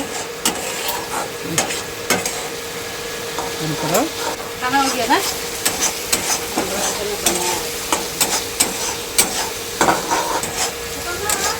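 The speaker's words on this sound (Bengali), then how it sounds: "এটা আমি এখন খুব ভালো করে একদম তেল ছাড়া অবধি ভেজে নেব" Spice masala for a Bengali pabda fish curry fries in hot oil in a pan. A steady sizzle runs under repeated scraping stirs of the spatula, close and fairly loud, with no talking.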